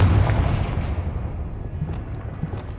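A Confringo spell explodes in Hogwarts Legacy, a single loud, deep boom that rolls on as a fading rumble for a few seconds.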